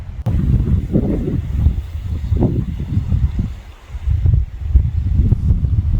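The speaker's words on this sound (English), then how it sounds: "It's pretty windy, you can hear it in the background." Steady low rumbling mountain wind in Kananaskis Country, Alberta, buffets the microphone, gusting continuously with brief dips in strength, loud and close throughout.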